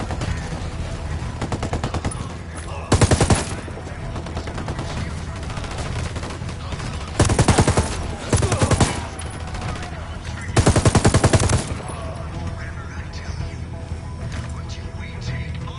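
Automatic weapons fire in Ghost Recon Wildlands comes in three loud, sharp bursts against a steady background rumble of game ambience.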